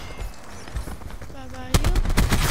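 Burst of gunfire from the Call of Duty video game, loud sharp shots cracking in rapid succession near the end after quieter in-game ambience, with a tonal chirp just before.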